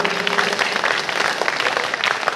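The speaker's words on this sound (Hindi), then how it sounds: "जोरदार ताली बजाएं" An audience at an Arya Samaj religious storytelling gathering breaks into loud, continuous clapping, a busy crackle of many hands with no speech on top.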